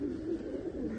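A short-beaked pigeon gives a soft, low cooing call, a faint single throaty burble at close range in a quiet setting.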